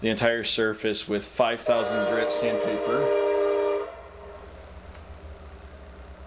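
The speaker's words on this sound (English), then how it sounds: "Sorry about that train." A train passing on nearby tracks sounds a long horn under a man's speech, the horn holding steady before cutting off, leaving a faint low rumble.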